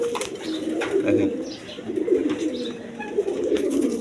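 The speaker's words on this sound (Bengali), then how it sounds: "এখানে এক পেয়ার রাসগোল্লা কবুতর আছে দেখেন" A pair of Rasgolla pigeons coo close by, with low, throaty, rolling coos repeating steadily over soft background noise.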